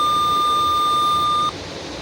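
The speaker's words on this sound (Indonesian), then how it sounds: "Terbukti ya, buzzer dan LED-nya menyala." A microcontroller gas sensor project sets off a buzzer alarm, giving one loud, steady electronic beep that holds for about a second and a half, then cuts off abruptly.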